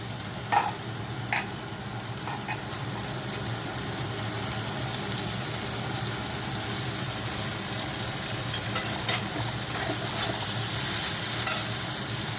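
Tomatoes fry in a pan with onions, black cumin and crushed garlic, a loud continuous sizzle punctuated by several sharp spoon-scraping clicks as the mixture is stirred.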